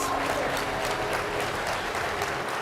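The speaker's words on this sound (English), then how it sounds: "A round of applause. A round of applause." Audience applause for the Kenya bid team at the closing ceremony of a geothermal congress, a steady wash of many hands clapping that continues evenly for a couple of seconds at moderate loudness.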